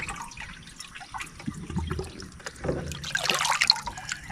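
Water poured from a bucket onto garden soil at dusk, a gushing, splashing pour that builds over a few seconds with trickling and dripping, close by and without talk.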